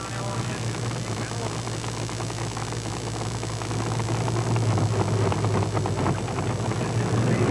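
Chevrolet 4WD pulling truck of the Holman brothers at a 1991 NTPA tractor pull in Rock Springs, its engine droning steadily and swelling louder midway through, heard from a distance over outdoor crowd ambience.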